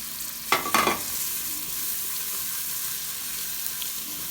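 Small diced onion fries in a spoonful of ghee with a spoonful of oil, giving a steady, even sizzle throughout, with a couple of brief stirring scrapes near the start.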